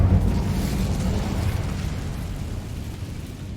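An Incendio fire spell in Hogwarts Legacy bursts with a heavy, rumbling whoosh of flame, loud at first and then settling into a low, decaying roar.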